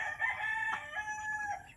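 A breeding rooster crows once, close and clear, a drawn-out harmonic call lasting under two seconds with little else around it.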